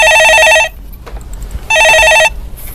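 Telephone bell ringing for an incoming call to a Korean stock-market call-in broadcast, two loud bursts of rapid electronic trilling separated by a quiet gap, with faint room noise between them.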